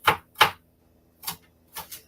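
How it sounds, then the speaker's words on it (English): Kitchen knife chopping onions on a cutting board for shrimp empanadas: sharp, close chops, two quick strikes, a pause, then three more spaced cuts. "So I'm just chopping it up smaller."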